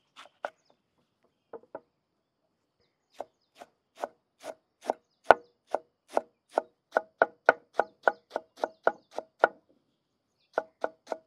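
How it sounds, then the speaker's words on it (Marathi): A knife chops coriander finely on a board, sparse strokes at first and then a rapid, even run of crisp taps heard close up and alone. "आपण आता कोथिंबीर बारीक चिरून घेऊ।"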